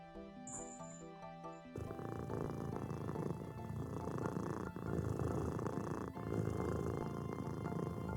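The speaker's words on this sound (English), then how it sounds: "I swear they recorded my kittens purring" A cat purrs in the video game A Little to the Left, a steady, continuous rumbling purr that holds at an even level throughout, alone with no talking.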